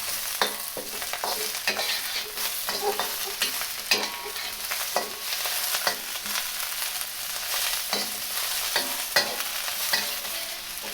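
Cabbage and other vegetables stir-frying for beef lo mein, a loud continuous sizzle cut by frequent, rhythmic scrapes and tosses of a utensil in the pan, with no talking.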